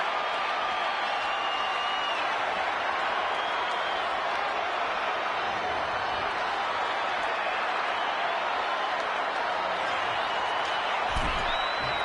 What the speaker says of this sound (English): listen to this capacity crowd. The anticipation is electric in this building.